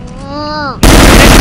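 A burst of loud gunfire in a first-person shooter video game, dense and harsh, cutting in abruptly after a short tonal in-game sound and continuing at full volume.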